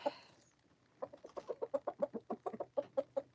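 Chickens and roosters cluck in a steady run of sharp, repeated calls close by on a Maine farm in the morning, following a brief quiet start.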